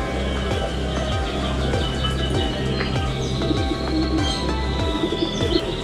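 Tomprang pigeons coo steadily at a bird market stall, a low repeating coo rhythm close by, with scattered chirps and market bustle layered over it.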